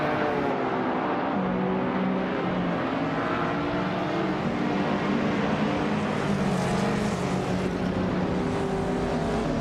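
Racing video game cars, including a classic 1986 BMW M330 against modern machines, make a steady, loud engine drone with layered revving tones that hold for the whole stretch without pause.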